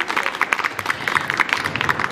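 Audience at a fashion show of young designers' collections applauding, a dense patter of claps at steady moderate loudness.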